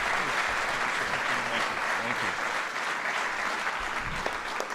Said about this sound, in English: can we just give another round of applause to the President of the United States